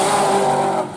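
Drift cars race up a hill in a championship event, a loud, close engine roar with a high sustained whine that fades slightly at the very end.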